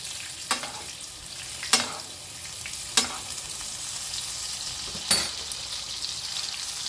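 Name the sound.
steak frying in a pan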